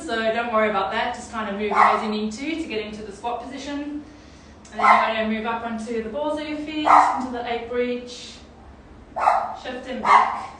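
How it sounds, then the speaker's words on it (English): Dogs barking repeatedly in the background of a home workout session, sharp bursts and yips coming in clusters under a steady instructional voice talking throughout. "sorry about the dogs."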